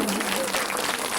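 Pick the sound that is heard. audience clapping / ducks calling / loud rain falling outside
audience clapping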